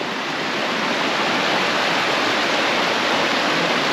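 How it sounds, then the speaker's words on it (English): Rushing creek water roars in a dense, steady broadband wash, loud and close beside a campsite, with no voices. "I'm sure that creek is loud."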